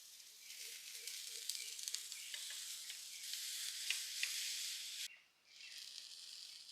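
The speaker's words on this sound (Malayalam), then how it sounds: "പാനൊക്കെ നന്നായിട്ട് ചൂടായിട്ടുണ്ട് ഇനി നമുക്കിത് വെച്ചു കൊടുക്കാം" Sweet potato batter sizzles on a hot old non-stick pan, a steady close hiss that fills the clip and drops briefly near the end before resuming.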